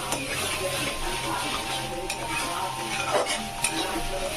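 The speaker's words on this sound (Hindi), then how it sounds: "इसको अच्छे से भूनना होगा" Spiced poha with peas sizzles and fries in a pan while a spoon stirs and scrapes it continuously, with a few louder clinks against the pan.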